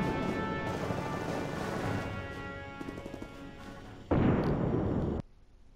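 Grenade blast in the video game Tiny Troopers Joint Ops, one sharp burst near the end amid earlier rumbling gunfire and explosion effects, then cut off abruptly.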